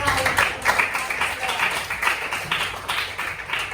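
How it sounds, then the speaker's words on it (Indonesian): Students in a classroom clap together in a steady, fairly close burst of applause that carries on throughout, with quick irregular hand claps overlapping. "Oke, tepuk tangannya."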